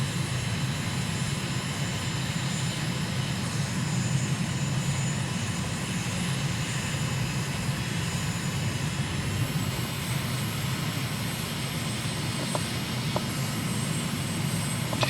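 Microlight aircraft engine droning steadily and loudly while climbing after takeoff from Treasure Cay Airport in the Abacos, Bahamas, a continuous close drone with wind rush and no talk.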